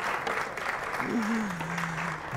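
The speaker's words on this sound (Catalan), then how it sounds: "Un aplaudiment, un aplaudiment." Audience on a TV spelling quiz show claps steadily at moderate loudness while a voice speaks over the applause partway through.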